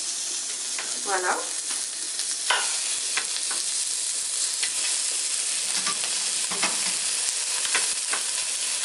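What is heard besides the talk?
beef pieces braising in a hot cast-iron pan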